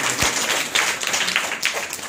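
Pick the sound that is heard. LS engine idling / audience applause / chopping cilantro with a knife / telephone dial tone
audience applause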